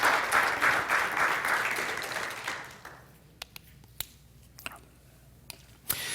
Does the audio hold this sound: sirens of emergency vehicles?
no